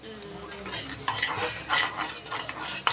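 Fenugreek seeds roasting in a pan being stirred, a continuous dry hissing rattle with scraping and clinking of the spoon against the metal, close and steady throughout.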